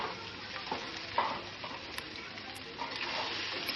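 Rice is stir-fried with ginger and garlic in a pan, giving a soft, steady sizzle with scraping stirs and light clinks. The sounds stay fairly faint and close, and no one speaks.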